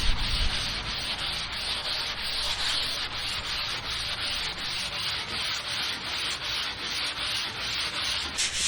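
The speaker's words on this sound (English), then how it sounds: "More sanding, getting this thing smooth." Rhythmic back-and-forth hand sanding smooths a 7ft egg surfboard, the close, steady scratchy strokes repeating evenly with no voices.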